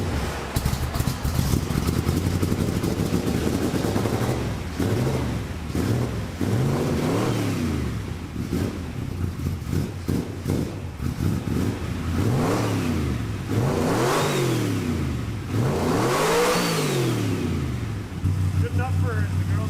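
A 1975 Chevrolet Stingray sports car's V8 engine revs repeatedly in rising and falling sweeps, loud and close, with talk over parts of it.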